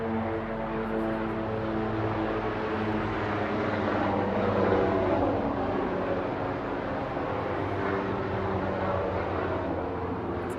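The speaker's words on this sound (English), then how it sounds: "I'll wait for the plane to fly away" An airplane flying overhead, a loud continuous droning roar that swells slightly midway and then holds steady with no talk over it.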